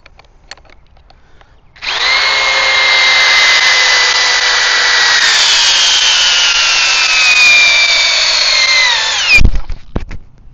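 A Metabo HPT DV36DC cordless drill in drill mode at speed 1 drives a 5/8 by 10 inch lag screw into a pilot hole, whining steadily and loudly for about seven seconds and ending in a sudden jolt and thump.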